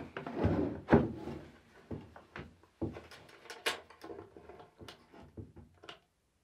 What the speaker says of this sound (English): I'm gonna pry that apart, flip it over, and set the trap